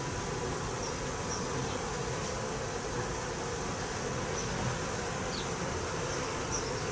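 Honey bees crowd a hive frame during an inspection of a swarm, giving a dense, even buzz close by that holds steady throughout, with faint higher insect chirps scattered on top and no talking.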